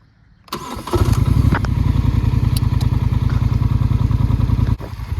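A Polaris Sportsman 850 SP ATV engine cranks and catches after a brief quiet moment, then settles into a loud, steady, close-up running idle with a fast rhythmic pulse before abruptly cutting off near the end.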